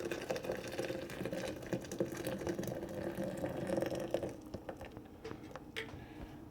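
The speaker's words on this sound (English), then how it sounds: "I'm going to pour that in there" Boiling hot water is poured over coffee in a steady, gurgling stream for several seconds, then gives way to softer scattered drips and foamy crackles.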